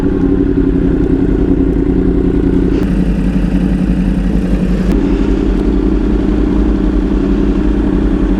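A Yamaha R1 sport motorcycle being ridden through the Malibu Mountains gives off a loud, steady engine drone, heard close throughout, with wind rush and slight shifts in pitch as the rider changes speed.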